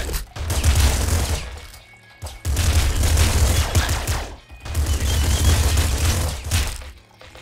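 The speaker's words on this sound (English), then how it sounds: "Is this a splinter pistol or a splinter gun? Because it's firing pretty slow." Splinter gun firing in the video game Nuclear Throne: loud, dense bursts of rapid crackling shots in three long volleys separated by brief gaps, with no talk.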